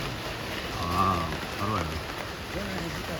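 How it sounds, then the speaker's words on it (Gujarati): Steady monsoon rain pours down on a campus in Surat, a dense, even hiss of falling water with a person speaking briefly over it. "જામ્યું છે ખરેખર વરસાદનું વાતાવરણ"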